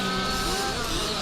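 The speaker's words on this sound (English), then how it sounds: "you can even hear those engines when they go through that" Dirt kart engines roar past on a karting club track, a steady loud drone with a slowly shifting pitch, close and continuous.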